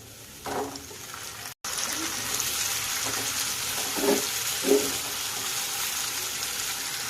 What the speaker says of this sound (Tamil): தக்காளி நல்லா குழஞ்சி வரட்டும், அந்த அளவுக்கு வதக்கி எடுத்துக்கலாம்.